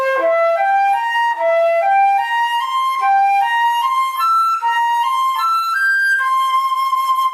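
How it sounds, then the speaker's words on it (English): Overlapping dominant seventh arpeggios climb in a steady run of bright, evenly spaced pitched notes, played solo and close, with no voices. "You can also practice them as overlapping arpeggios"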